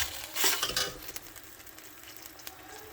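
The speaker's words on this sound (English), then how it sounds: "saute this till the raw flavor of the tomatoes go away." Tomatoes sauté in a pan for a spicy vegetable macaroni. A brief burst of stirring and utensil scraping comes early, then settles into a quieter, faint sizzle.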